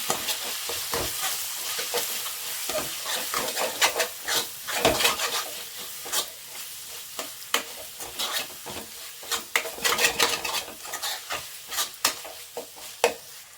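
A mango and brinjal mix with garam masala is stirred in a pan, giving repeated scraping and clacking strokes over a soft sizzle, close and fairly loud.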